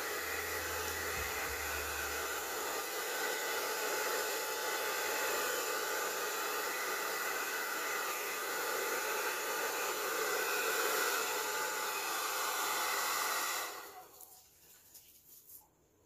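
A hair dryer blowing on wet acrylic pour paint on a coaster, a steady close whooshing roar that holds for about fourteen seconds and then cuts off, leaving near silence.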